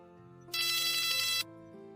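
An incoming-call phone ringtone in a Hindi drama story rings loudly for about one second over a steady, soft musical background that carries on after it stops.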